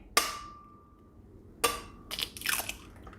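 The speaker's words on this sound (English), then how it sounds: "Crack it with 1 hand if you're gangsta." An egg is cracked one-handed for dairy-free, gluten-free pancake batter going into a blender. Two sharp taps ring briefly, followed by a quick crackle of shell breaking apart, close and fairly quiet.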